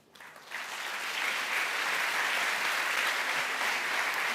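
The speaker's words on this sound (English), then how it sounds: "This is your applause." Sustained audience applause for a panel at the Bled Strategic Forum in a festival hall, swelling within the first half second and holding steady and full for several seconds, with no voices over it.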